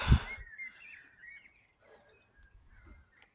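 Birds call in a garden at dusk, with a few thin, faint chirps and twitters scattered across a quiet background after a brief louder rustle at the start.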